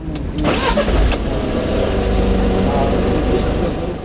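A new ambulance's engine cranks and starts, a few quick clanks and a catch, then settles into a steady, loud, close idle that hums on without talking.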